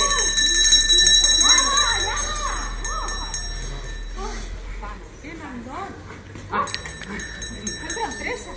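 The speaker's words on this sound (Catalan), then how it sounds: "Una altra campaneta." A small bell rings several times in short bright strikes over a hum, accompanied by dog barks and yips, with people talking throughout.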